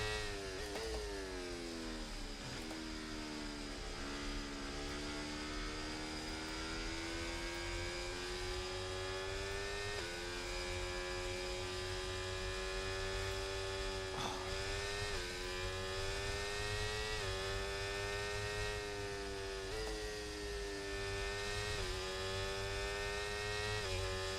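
A race car engine drones through a lap of Monza in a racing video game, rising and falling in pitch through gear changes and corners, loud and continuous with no talking.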